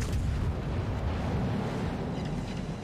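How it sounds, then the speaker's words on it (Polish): A naval gun salvo booms in World of Warships, a heavy rumbling blast that rolls on for a few seconds and slowly fades, loud and without voices. "kolejna salwa z tylnej wieży już siadła"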